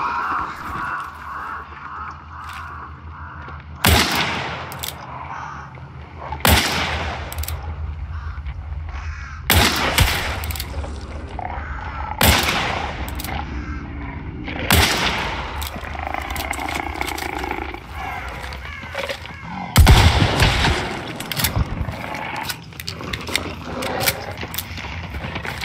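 Shotgun blasts ring out in the video game Hunt: Showdown, several loud sharp reports spaced a few seconds apart over a quieter ambient backdrop, with crow caws and other game sounds in between.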